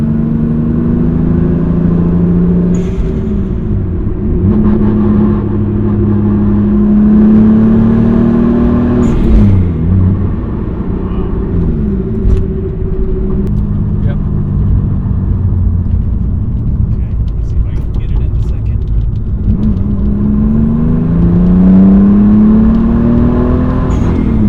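A JDM 1993 MKIV Toyota Supra with D2 coilovers drives under load, its loud engine droning and rising and falling through repeated revs and gear changes, heard from inside the car without talking.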